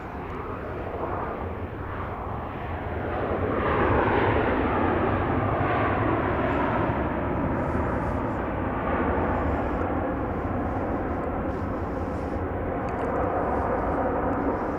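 An airplane arriving to land at Dallas Love Field, a broad roaring engine rumble that swells and holds loud as the aircraft passes near, with no talk.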